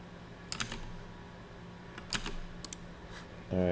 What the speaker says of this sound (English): Why have I been typing into Visual Studio?